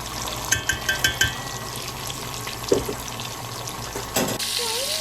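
Sofrito being stirred into yellow rice in a pot for Puerto Rican rice, with soft scraping and liquid sizzle, a few light spoon clinks, and a brief louder burst near the end.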